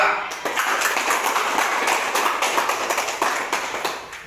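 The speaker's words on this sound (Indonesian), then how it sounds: "Tepuk tangan untuk kelompok 2" Classroom applause for a student group: many hands clapping in quick, uneven bursts, close and lively, carrying on steadily for a few seconds.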